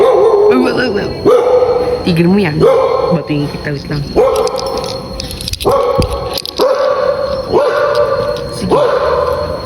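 A dog barks and yips repeatedly close by while a person talks loudly over it, the barks coming in short bursts throughout.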